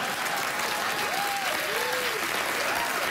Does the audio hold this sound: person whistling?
no